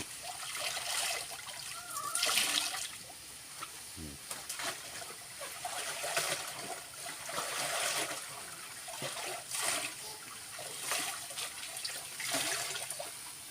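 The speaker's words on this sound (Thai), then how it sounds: "ไล่น้ำเย็นตัวนะก่อนล้าง" Cold water rinses freshly dyed noodles, a steady splashing and trickling flow running throughout with brief louder gushes, with faint talk in the background.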